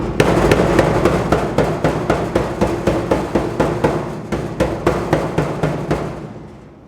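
Rapid, steady mallet blows on a GTO's sheet metal wheel well, a continuous string of sharp ringing taps up close that fades out at the end.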